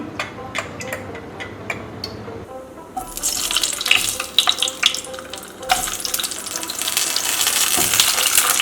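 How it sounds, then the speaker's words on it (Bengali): Pointed gourds (potol) fry in about half a cup of oil with a rising crackle and hiss after a few quieter clicks and taps, the sizzle growing dense and steady toward the end. "এগুলো এদিক ওদিক একটু হালকা করে ভেজে নেব"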